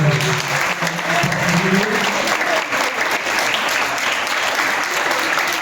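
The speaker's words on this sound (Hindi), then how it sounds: "हम लोग तहे दिल से दिल की गहराइयों से ताली बजाकर धन्यवाद देते हैं" Steady applause from a church congregation at a morning service in Hoshiarpur, Punjab, loud and sustained throughout, with faint voices mixed in beneath the clapping.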